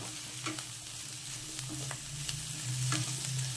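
Mushrooms fry in a pan for mushroom fried rice, giving a steady close sizzle punctuated by several sharp scraping clicks of a spatula stirring, with no voices.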